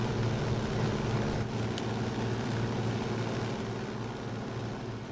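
Exterior view of an A6M5 Zero in the MSFS 2024 flight simulator: a steady, droning radial engine hum with a low rumble, continuous and even throughout.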